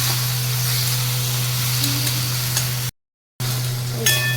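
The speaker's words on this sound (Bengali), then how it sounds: "এরপরে ভাজা ভেন্ডিগুলো দিয়ে মিক্স করে দেবো।" Fried okra stirred into sizzling masala for bhindi masala, a steady close hiss of frying under a low constant hum, with a brief total dropout partway through and a few light stirring touches near the end.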